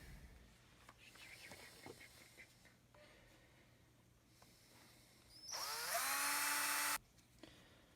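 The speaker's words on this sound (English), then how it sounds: "then I'll drill a hole in it that's about that size" A power drill boring a hole in gasket material whines up to a high pitch for about a second and a half, then stops, amid quiet handling noises.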